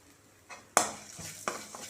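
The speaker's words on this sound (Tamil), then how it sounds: "இந்த எண்ணெயில் நல்லா பெரட்டி ஒரு 10-15 செகண்ட் நல்லா பெரட்டி விட்டுடலாம்." Ingredients are stirred in hot oil in a pan, giving a soft sizzle with a few scraping clinks of the spoon against the pan, close and brief.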